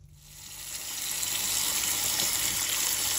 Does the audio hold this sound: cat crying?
no